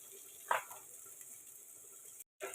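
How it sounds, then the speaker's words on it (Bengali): Chili and onion frying in a pan, a faint, soft sizzle with a brief louder stir near the start, quiet and close, then a moment of silence before the sizzle resumes. "এগুলো দিয়ে আমি এখন খুব ভালো করে একটু এটাকে ভেজে নিব।"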